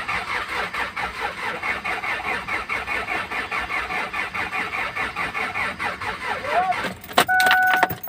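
A Kia Sorento with a D4CB diesel engine cranks continuously with a rapid rhythmic churning under a faint whine, then a louder, harsher burst and tonal beeps near the end.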